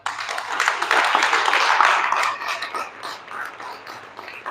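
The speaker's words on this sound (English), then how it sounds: "Clap for the academy." Audience clapping for an academy at a business talk, a broad burst of applause that swells then gradually thins out, with crowd murmur underneath.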